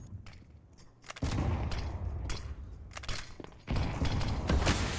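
Gunfire in Counter-Strike on the Mirage map during an ESL Challenger League match, with loud dense bursts of shots and a sharp rise in intensity partway through, continuing in heavy volleys.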